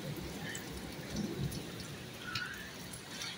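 Heavy monsoon downpour with hail, a steady dense roar of rain close by, with faint low rumbles of thunder beneath it and no voices.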